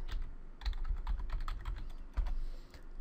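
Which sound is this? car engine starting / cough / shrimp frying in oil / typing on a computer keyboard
typing on a computer keyboard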